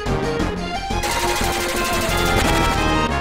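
Rapid gunfire bursts from enemies in Final Fantasy VII, loud and dense, mixed with game music and effects throughout.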